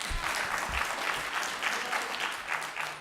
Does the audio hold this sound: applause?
yes